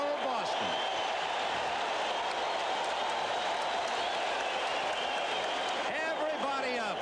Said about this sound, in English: And look at this crowd. On its feet.